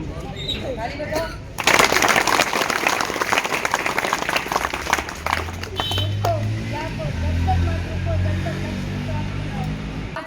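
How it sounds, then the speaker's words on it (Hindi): An audience at a Swami Vivekananda birth anniversary gathering breaks into loud clapping that lasts a few seconds, then fades as a speaker's voice carries on over the hall. "ताली बजाओ।"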